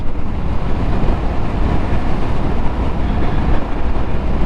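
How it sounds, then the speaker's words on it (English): Steady, loud wind roar rushing past a rider on a 2022 Harley-Davidson Sportster S naked bike in sixth gear at speed, a dense continuous broadband buffet with engine rumble underneath and no talk. "6th gear at these speeds, it's a naked bike, so I'm getting all the wind"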